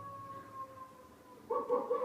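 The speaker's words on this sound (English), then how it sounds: "hidden here is a hidden button which does a nice little wolf howl" A faint, sustained wolf howl sound effect rising and falling over the first half, followed by a louder burst of yipping, wavering howls toward the end.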